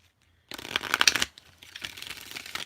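Tarot cards shuffled briskly in a dense riffle burst after a short silence, followed by softer continued card rustling and handling.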